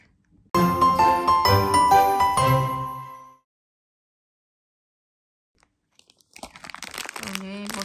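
An advent calendar surprise package is torn open with loud, close crinkling and ripping of foil and paper for about three seconds, then near silence, then softer rustling and handling.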